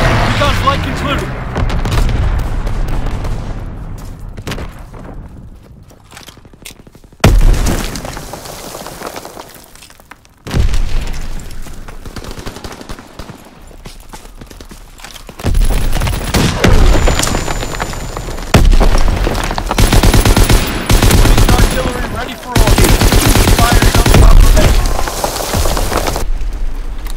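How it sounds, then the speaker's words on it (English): Call of Duty WW2 battle sounds with loud booms and bursts of gunfire in sharp, separate blasts, quiet gaps between them, and radio-style voices calling out orders. "Firing primary battery."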